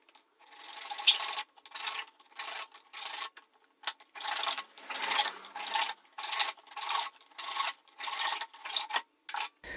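A hand saw rasps through plastic pipe in quick repeated back-and-forth strokes, close and rhythmic, with short pauses between bursts.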